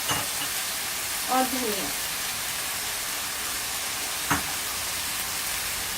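Kaleji karahi sizzles and fries in the pan while garam masala, dried fenugreek, green chillies and coriander are mixed in, a steady close hiss with a brief spoken phrase and a couple of stirring knocks.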